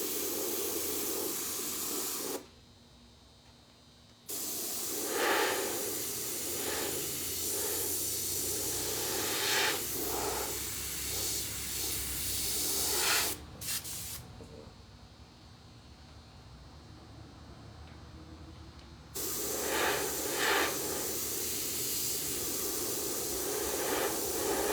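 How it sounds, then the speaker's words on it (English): An air compressor with a 60-gallon tank hisses steadily during airbrushing of a baseball helmet, loud and continuous, dropping out briefly twice before resuming. "Sorry about the air compressor, guys."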